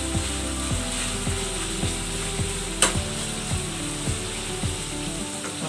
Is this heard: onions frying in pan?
yes